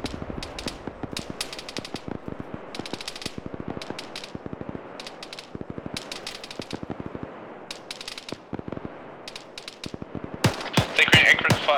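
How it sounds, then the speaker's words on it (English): Bursts of machine gun fire during a military training exercise sound in quick, uneven strings of sharp shots throughout, growing louder and denser toward the end, with faint voices in the background. "Take anchor fire from machine gun at Team 2"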